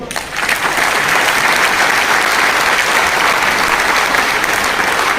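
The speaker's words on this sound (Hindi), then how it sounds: "एक बार अपने लिए तालियां बजाएं" A seminar audience bursts into loud, dense, sustained applause, many hands clapping together at a steady level from start to finish.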